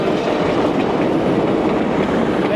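A train rolls past at an unbarriered rail crossing in Nairobi's Eastlands, a loud, close, steady roar of wheels and rattling wagons with faint clickety-clack filling the whole stretch, and a brief squeal near the end.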